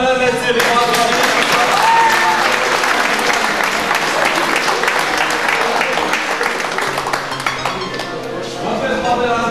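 Sustained audience applause fills a Muay Thai event hall, dense steady clapping from a large crowd with scattered clinks, continuing throughout and tapering slightly near the end.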